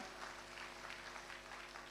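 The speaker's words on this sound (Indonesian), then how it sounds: "kita tepuk tangan buat Tuhan" Congregation applauding during a Sunday church service, a steady wash of many hands clapping at a moderate, even level with no pauses for the full two seconds.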